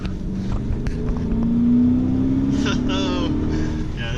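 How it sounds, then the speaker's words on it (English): A 2015 Dodge Challenger R/T pulls hard in third gear, engine note swelling loud and rising steadily from inside the cabin before easing off, with faint voices in the background. "We'll do a third gear pull here."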